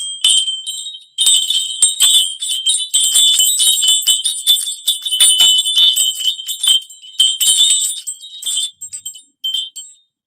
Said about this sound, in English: Let's go ahead and clear with the bells.